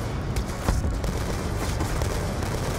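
Dense bursts of video game gunfire and booming blasts in Call of Duty: Black Ops 2 crackle continuously in a loud, chaotic battle din, with no clear talking.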